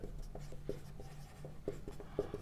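Chalk writing on a board during a maths lesson: a steady run of short tapping and scratching strokes in an uneven rhythm, close and fairly quiet, with no speech over it.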